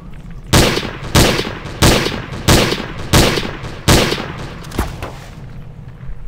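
Gunfire in the Garry's Mod game Trouble in Terrorist Town: six loud, evenly spaced single shots about two thirds of a second apart, each with a short decaying tail, then a fainter seventh shot near the end, with no talk.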